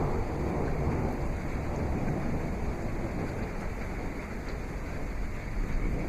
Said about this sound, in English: A lot of thunder and lightning.